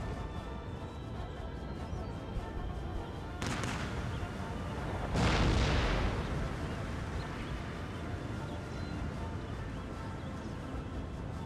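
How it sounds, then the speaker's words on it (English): Artillery fire in Empire: Total War, distant cannon booms rolling out amid steady battlefield ambience, with one heavier swelling blast in the middle and a softer report just before it. "at that range you can't really expect too much by artillery"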